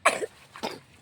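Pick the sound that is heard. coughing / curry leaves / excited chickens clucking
coughing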